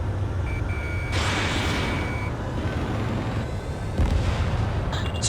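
An APC blowing up amid a dense air-combat battle in Ace Combat 7: a sustained, loud roar of blasts and rumbling fire with a brighter burst partway through, no voices.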